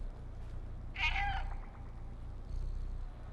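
A cat in the video game Stray lets out a single short, fairly quiet meow over a low background hum, followed by a faint trailing cry.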